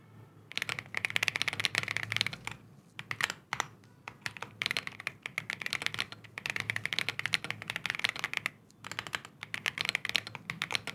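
Fast typing on a Monsgeek M1 V5 mechanical keyboard fitted with a tape mod and foam between the PCB and case gives close, soft, muted clacks in bursts with brief pauses.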